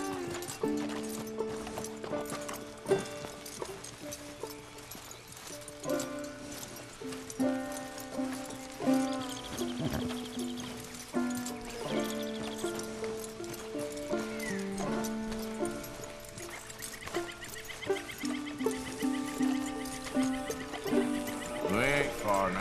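Horse in the Red Dead Redemption 2 video game, clip-clopping hooves and an occasional whinny set under a steady musical score, with speech at moments.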